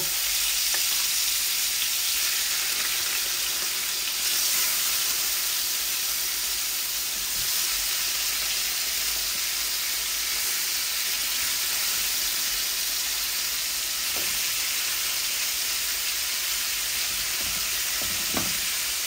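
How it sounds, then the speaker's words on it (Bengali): Tilapia fish, cleaned with turmeric and salt, frying in oil: a loud, dense, even sizzle and hiss running the whole time with a couple of faint clinks. "এটাকে কেটে হলুদ লবণ দিয়ে ধুয়ে ভালো করে পরিষ্কার করে বিসমিল্লাহ আমি এটাকে ভাজবো।"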